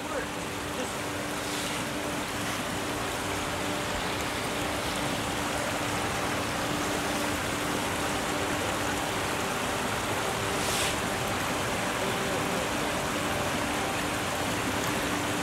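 A river in Hacklebarney State Park in Chester, New Jersey flows in a constant, even rush of water, close and unbroken throughout.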